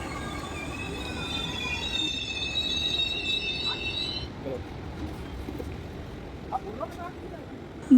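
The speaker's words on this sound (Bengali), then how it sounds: "আর চলে এসছে ট্রেন" A train pulls into Raniganj station, its wheels squealing with a steady high screech over a rumbling platform din that fades midway, followed by scattered clanks; voices murmur in the background.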